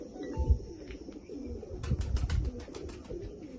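A racing pigeon coos softly in low, rounded calls, with a flutter of wings and a few faint chirps close by.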